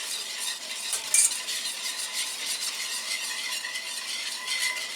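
A whisk scrapes and swishes steadily through yellow lemon pie filling in a bowl, with rapid, close, bright metallic rasping and a faint clink.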